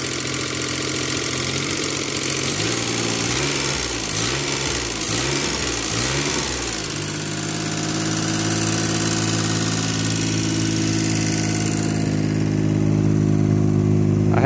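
A revived Geo Metro car engine runs steadily close by, a loud, even idle with a rough, buzzing mechanical texture and a slight shift in tone partway through, with no talking.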